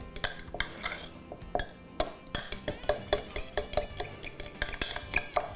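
A maple syrup marinade for maple chipotle BBQ chicken is stirred in a bowl, the utensil scraping and clinking against the dish in a quick, steady rhythm of close, bright knocks, with no talking.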